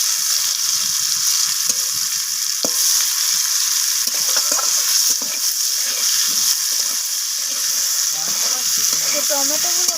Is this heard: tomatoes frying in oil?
yes